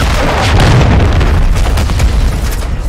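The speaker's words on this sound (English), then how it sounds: "Hostile cruise missile incoming." A cruise missile strike exploding in Call of Duty: Modern Warfare 3 multiplayer, a loud, sustained booming roar with crackling debris that fills the whole moment without a break.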